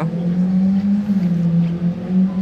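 A Ferrari 458 Liberty Walk engine drones deep and steady, rumbling loudly and close, holding a low burbling tone with slight wavering throughout.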